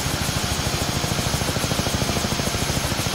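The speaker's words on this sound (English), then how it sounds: "Oh, good boy. You can fly chopper." A helicopter flies in a video game, its rotor thumping in a fast, steady chop with a loud engine whine over the full length and no talk.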